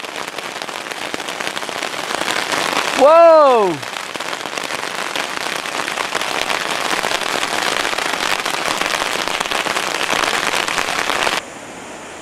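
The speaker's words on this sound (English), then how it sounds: "Now the hail's really coming down." Hail pours down in a thunderstorm on Piute Pass, a loud, dense, steady hiss of pelting ice that stops abruptly near the end, with one person exclaiming early on.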